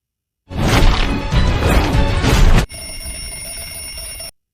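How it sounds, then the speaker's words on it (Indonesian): A bell rings to end a fight in the film Ip Man 3, a sustained bright metallic ringing that cuts in sharply after a loud burst of clattering scuffle and holds steadily to the end. "Pertarungan ini berakhir saat bel berbunyi, di mana Frank hampir meninju kepala Ip Man,"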